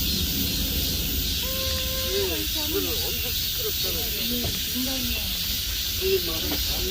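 Steady, dense buzzing drone of cicadas fills the background continuously along a metasequoia-lined hiking trail on Dodeoksan mountain near Seoul, with people talking softly over it.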